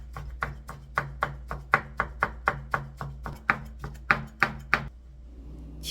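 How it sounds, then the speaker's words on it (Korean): Knife chopping through rolled white egg garnish (jidan) on a cutting board, about sixteen crisp, evenly spaced cuts at a brisk steady rhythm, close and clear, then stopping. "흰색 지단도 이렇게 똘똘 말아서 썰면 돼요."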